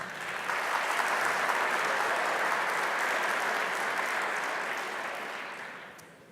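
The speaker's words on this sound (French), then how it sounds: "Donc vous pouvez vous applaudir pour ça," A conference audience at an opening plenary session in Nancy breaks into sustained applause, a dense, even wash of many hands that swells in quickly, holds steady and fades out near the end, with no talking.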